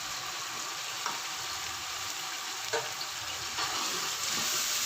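Tomato paste and green chili paste frying in a pan, a steady low hiss of sizzling throughout with a few faint clinks or stirring taps, no voices.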